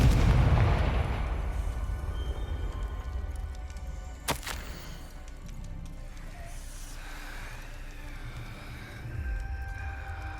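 A Confringo blasting curse detonating in the Hogwarts Legacy video game, a loud explosive boom at the start decaying into a long rumbling tail, with a sharp crack partway through and low game ambience afterward.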